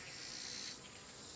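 A swarm of honey bees hums steadily inside a hollow tree hive, a dense, continuous, close-up buzz that eases slightly partway through.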